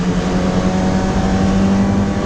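Close, loud engine hum of a 1988 Toyota MR2 at a fairly even pitch through a rev-match downshift, a continuous drone heard from the cabin with no talking.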